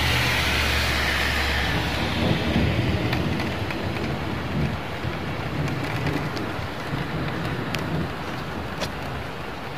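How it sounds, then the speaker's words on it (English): Heavy rain pounds steadily on pavement and a car window throughout, with a low rumble of thunder sitting under the downpour, close and continuous with no voices. "There's some thunder."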